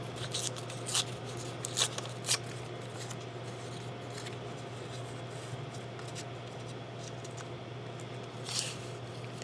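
Scissors cut paper while making a guest check pocket craft page. A few soft snips and rustles come close up over a steady low background hum.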